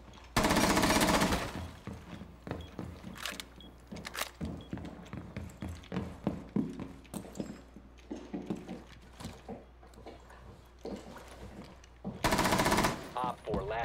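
Gunfire in Rainbow 6 Siege aimed down at the floor: bursts of rapid automatic shots at the start and end, with scattered single shots and thuds in between, close and loud, with voice chat faintly underneath.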